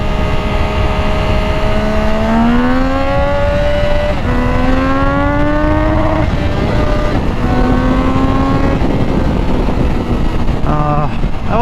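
A Triumph Daytona 660 motorcycle with a BT Moto tune accelerates hard through several gears. Rising engine pitch climbs, drops at each shift and climbs again, loud and close over heavy wind noise, with a rider's voice faintly underneath.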